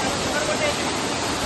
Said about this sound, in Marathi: आता आम्ही वडाप धबधब्यावर आलेलो आहोत। फार सुंदर असा हा धबधबा